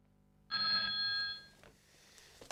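A telephone in an office gives one short, bright electronic ring lasting about a second. It then drops to a quiet room with faint rustling.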